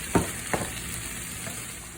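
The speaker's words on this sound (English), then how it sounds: "Give it a few nice stirs." Sauce being stirred in a pan, two scraping strokes of a utensil near the start and a softer one later over a steady background sizzle, no talking.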